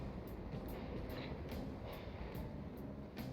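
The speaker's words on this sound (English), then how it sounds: "those trains are running actually quicker than any others" Subway trains run along underground tracks in Persona 5 Royal, a steady close rumble filling the whole stretch with faint periodic clacks and hiss, no voices over it.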